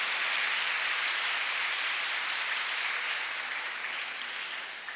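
A church congregation at a Sunday Mass for the Feast of the Body and Blood of Christ applauds with dense, sustained clapping that fills the space and tapers off slightly at the end.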